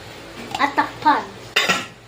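A metal lid set over a kaldero pot of rice, with a few clanking knocks of cookware close by and a final louder clatter.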